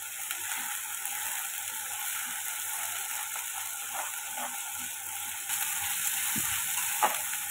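Spice masala for a potato and pointed gourd dum curry fries in a pan, giving off a steady, even sizzle that grows slightly louder near the end, with a few faint stirring clicks and no talking.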